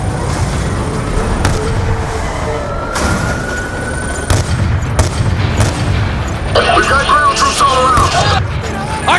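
Call of Duty: Black Ops 2 combat with sustained gunfire bursts and heavy booms, loud and close, continuous throughout, mixed with shouted voice lines.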